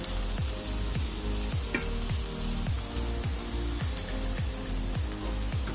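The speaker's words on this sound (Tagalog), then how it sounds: "Halo lang natin." Beef, onion and garlic stir fry is stirred in a hot pan, a dense continuous sizzle broken by regular rhythmic scrapes of the utensil roughly twice a second, close and steady with no talking.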